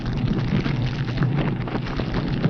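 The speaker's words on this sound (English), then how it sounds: "Sometimes the explosive detonates because of close confinement and intense heat." In a nuclear weapon fire test, the ordinary explosive inside the weapon, confined and intensely heated, detonates as a sustained, loud, roaring blast with a dense crackling rumble that fills the whole span without letting up.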